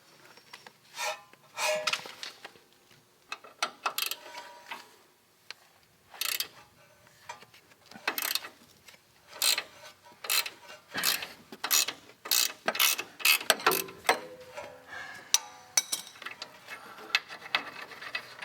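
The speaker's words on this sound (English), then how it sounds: "So we're going to take our 19 millimeter wrench." Rapid ratcheting clicks in irregular bursts come from a 19 mm wrench working an upper control arm bolt on a Toyota, close and crisp with short pauses between runs.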